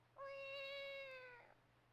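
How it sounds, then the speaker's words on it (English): A single cat meow from the video game Zelda: The Wind Waker, one clear drawn-out tonal cry lasting about a second and a quarter, heard alone against a quiet background. "That's another meow part."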